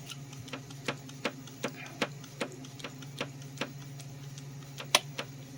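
A series of sharp mechanical clicks from a Mercedes vacuum door lock actuator on a bench test, at a steady, tick-like rhythm over a low continuous hum, fairly close and moderately loud.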